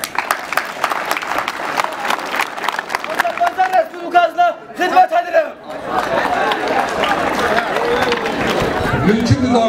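An audience at a school military game awards ceremony claps for a school director, a dense burst of applause and crowd noise that swells toward the end, with someone speaking loudly over the opening seconds.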